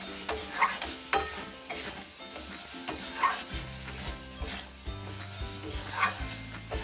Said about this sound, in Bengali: এবার আমরা গ্যাসটা একটু বাড়িয়ে নাড়াচাড়া নাড়ব।